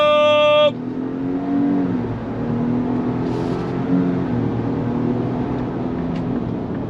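2025 Ford Ranger Lariat pickup with a V6 EcoBoost engine accelerating hard, a steady loud engine drone building with tire and wind roar heard from inside the cab, after a brief tonal chime at the start.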